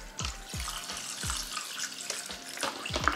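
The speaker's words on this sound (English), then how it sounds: "I'm just adding some hydrogen peroxide with some water." Hydrogen peroxide and water pouring into a container for soaking a plant chunk during repotting, a steady close splashing trickle with repeated low sloshing pulses, no voices.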